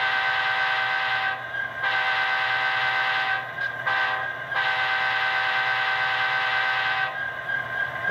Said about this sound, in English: So pretty quick grade crossing signal there. Correct to the actual railroad rules.